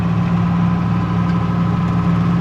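A tractor fitted with a large mower runs steadily nearby, a loud, unbroken low engine drone with a constant hum and no change in pace.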